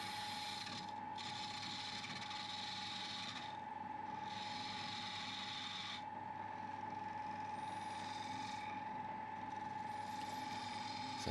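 Yew is turned into a table lamp on a wood lathe, steady motor hum beneath repeated scraping bursts of the tool cutting contours, several passes separated by brief pauses, close and with no talk.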